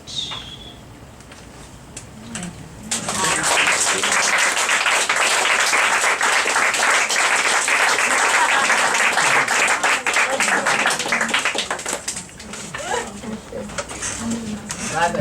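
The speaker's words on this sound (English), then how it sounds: "Let's hear an applause for it." Applause from an audience after a poetry reading, rising suddenly after a quiet start into loud sustained clapping for about nine seconds, then thinning out, with some voices underneath.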